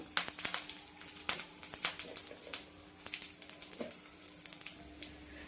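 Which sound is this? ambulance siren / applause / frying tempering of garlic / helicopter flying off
frying tempering of garlic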